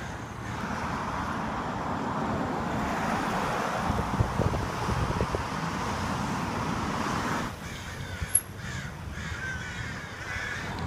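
Crows caw and squawk repeatedly outdoors around an abandoned, demolished landmark building, over steady wind noise and a distant hum of traffic; the calls thin out toward the end.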